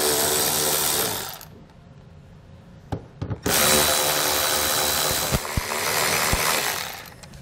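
Power driver with a 5.5 mm socket removing wheel well liner screws on a 2019 Ford Explorer, with a loud whirring run, a pause with a few clicks, then another long spin-out, close and without talk.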